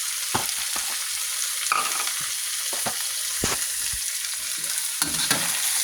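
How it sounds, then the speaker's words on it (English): Napa cabbage, mushrooms, scallions and onions stir-fried in a pan for chicken and shrimp chop suey: a constant bright sizzle broken by repeated scraping strokes of a spatula, close and clear with no talking. "I'm just stir frying them till they're crisp and the onions are a little"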